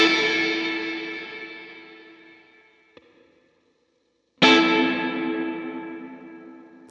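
A sustained guitar chord through a Line 6 Helix dynamic room reverb rings out and decays, a brief tap, then near silence, then a second chord strikes and trails away the same way.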